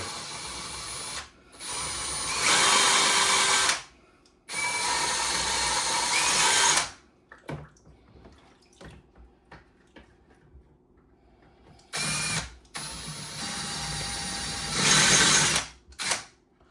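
A power drill whirs loudly in three long bursts while drilling out a rivet on a luggage wheel, separated by quiet gaps with faint clicks and handling noises.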